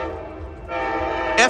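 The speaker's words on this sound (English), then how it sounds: "This is another Capital Corridor train going southbound to San Jose." An Amtrak Capital Corridor train led by an F59PHI locomotive arriving southbound at Oakland Jack London Square station sounds a loud, steady horn blast, rising at the end with a brighter burst over the rumble.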